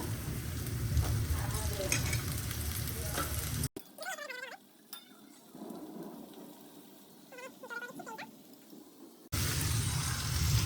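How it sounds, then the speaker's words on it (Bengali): Potatoes fry in oil in a pan, giving a dense, close sizzle that fills the opening and closing stretches, with a quieter middle section where a cat meows several times. "আলুগুলো দিয়ে তারপরে ভাজবো।"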